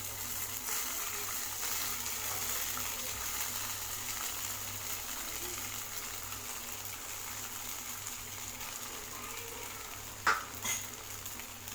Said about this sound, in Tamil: இப்போ இதில் நம்ம தண்ணியில் ஊற வச்சு தண்ணியெலாம் எடுத்து வச்சுருக்கிற ஜவ்வரிசியை இதில் ஆட் பண்ணிக்கலாம்.